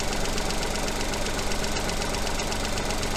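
A car engine idles with a misfire, a steady, close mechanical rumble with a fast, even knocking pulse throughout.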